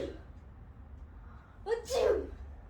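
A person fakes a sneeze as a prank on their dad at home, one loud, close, breathy achoo bursting out after a quiet pause with a brief intake just before it.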